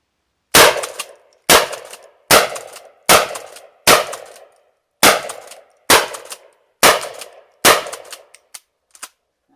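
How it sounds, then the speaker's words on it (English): A Kel-Tec KSG shotgun fires Aguila 12 gauge mini slugs in nine sharp, loud, close reports spaced about a second apart, each ending in a short decaying echo, followed by a faint clink. "I'm just going to pop those babies off right now"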